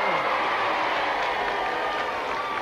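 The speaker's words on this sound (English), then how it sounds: "What about one more big cheer for Gloucester" A crowd cheers and applauds for the Gloucester team at the 1982 It's a Knockout contest, a steady, dense roar that stays constant throughout.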